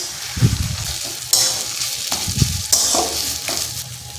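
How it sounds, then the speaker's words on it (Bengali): Soybean paste fries with onions in a pan, where a loud close sizzle is punctuated by several sharp spatula scrapes and knocks as the mixture is stirred. "সোয়াবিনের যে বাটাটা ছিল ওটাকে দিয়ে দেবে দিয়ে ভালো করে মিশিয়ে নেবে"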